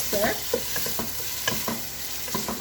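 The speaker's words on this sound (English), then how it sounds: "you put onion and garlic in" Onion and garlic frying in a pan, a steady bright sizzle punctuated by repeated spatula scrapes and stirring knocks, close and fairly loud with no voices.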